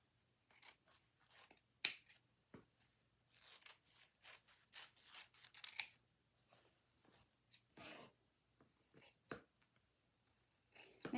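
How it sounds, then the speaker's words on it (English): Scissors cut a circle out of scrap fabric for a pumpkin craft, giving quiet, intermittent snips and soft rustles in short irregular bursts close by. "And now we're going to just cut the circle"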